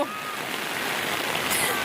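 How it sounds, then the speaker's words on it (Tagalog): Heavy rain pours at a beach, a soft, steady hiss of falling water with faint splatter, fairly quiet and continuous, a brief brighter burst near the end. "Lakas ng ulan"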